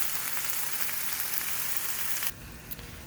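Ground turkey meat sauce frying steadily in a pan, a continuous close sizzle that cuts off sharply near the end and drops to a quieter simmer.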